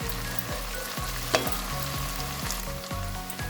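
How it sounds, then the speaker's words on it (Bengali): Onions frying in a pan for Bengali-style chicken tadka, a steady close sizzle with periodic scraping strokes of a spoon stirring through, one sharper clink partway. "পেঁয়াজটা একটু আমি নাড়াচাড়া করে নিয়েছি।"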